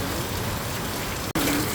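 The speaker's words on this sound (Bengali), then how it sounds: "অনেক বৃষ্টি হচ্ছে, প্রচুর বৃষ্টি হচ্ছে, অনেক ভালো লাগতেছে।" Steady dense rain hisses throughout, broken by one brief dropout near the end.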